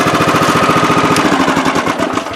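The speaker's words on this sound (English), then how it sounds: "What a great lawnmower this thing is." A lawn mower engine runs loudly and steadily close by, with a rapid, even chugging throughout.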